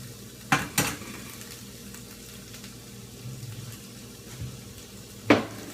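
Ginger and vegetables with curry powder frying in a pan, a low sizzle under a few sharp clanks of a utensil against the pan, close and with no talking.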